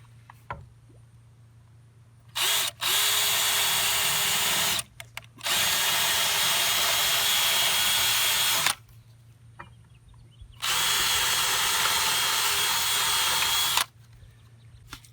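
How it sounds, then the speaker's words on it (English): A power drill whirs in several sustained bursts of a few seconds each, drilling starter holes for lag bolts while installing a floating dock, stopping and restarting, close and loud with no talking. "drill in the lag bolts, let's get the starter holes going."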